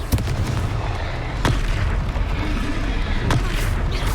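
In the Hogwarts Legacy video game, Confringo fire spells explode as a continuous rumbling roar, with a few sharp booms cracking through it and a spoken voice faintly mixed in.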